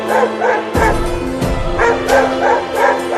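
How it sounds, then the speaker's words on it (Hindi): A dog barks in loud, close bursts, three or four sharp woofs mixed with whimpering yips, while people talk in between. "अरे ये कुत्ता तो यहाँ तक पहुँच गया।"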